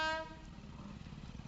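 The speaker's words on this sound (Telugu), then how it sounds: "Goods train అనుకుంటా." A goods train rolls past close by, opening with a brief horn toot before a steady rumble and clatter of wagons carries on without a break.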